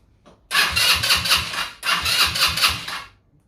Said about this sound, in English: It isn't running because there is no petrol